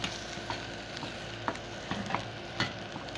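Noodles stirred together in a pan over heat, a steady low sizzle with repeated light scrapes and taps of the utensil, close and even, no voices.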